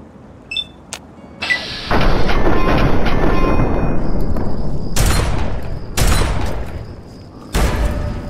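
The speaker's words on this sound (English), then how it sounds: "he's pulling out a grenade" Fallout 3 combat at the Jefferson Memorial on PC: several loud, close explosions and bursts of gunfire, with sharp impacts followed by sustained rumbling booms and crackling.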